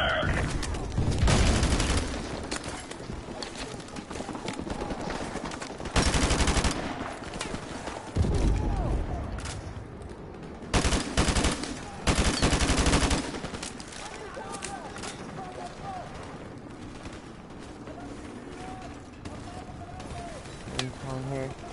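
Near, loud, sustained gunfire from Modern Warfare Remastered's campaign, with rapid automatic bursts and heavier booming shots recurring throughout and game voices mixed in.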